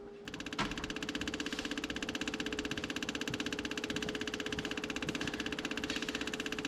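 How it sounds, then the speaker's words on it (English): An AMC Rambler wagon engine, left unused for over 50 years, idles close by in an even, rapid, pulsing chug with a faint steady whine, running alone and unbroken after a brief start. "Let's start it up again and just let it sit here and you can watch it idle."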